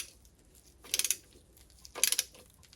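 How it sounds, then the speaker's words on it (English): A ratchet tightens a bolt on a Sea-Doo GTX 951DI jet ski engine during removal for overhaul: two short bursts of quick metallic clicking, close and distinct, separated by a quiet pause. "Go ahead and switch your ratchet to the tighten or clockwise configuration and tighten it just a little bit"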